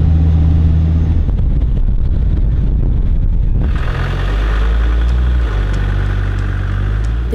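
A car labouring through very soft sand on the coastal track to Sandwich Harbour, Namibia, its engine droning steadily under load with a continuous loud rumble and a change in pitch midway as throttle shifts.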